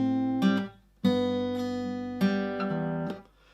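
Opening bar of a song fingerpicked on acoustic guitar, a few sustained chords and plucked notes ringing close and clean, with brief pauses between them and no talking.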